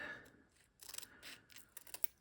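Quiet snips and crisp rustles of paper being cut with scissors, a handful of short cuts in quick succession, close and soft.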